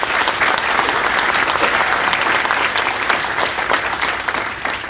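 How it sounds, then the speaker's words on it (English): An audience at the Los Alamitos Unified school district's 2015 State of the District event applauds steadily, a dense wash of clapping that holds for several seconds before easing slightly. "So applause for them, they do amazing work."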